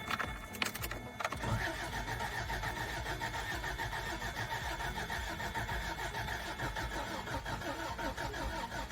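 A Toyota 22RE engine, freshly rebuilt with a new head and cam, turns over on a jump pack and catches, settling into a loud, steady run close by with no talking.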